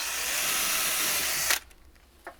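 A power drill whirs steadily and loudly for about a second and a half, then stops abruptly, followed by a brief clunk.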